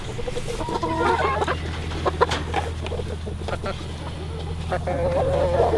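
Backyard flock of chickens around a waterer clucking and murmuring nearby, short irregular calls over a low steady hum, with a person talking in between.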